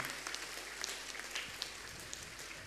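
An audience applauds during a Catholic Mass in a parish church, a faint, even wash of clapping that continues without a break for a few seconds.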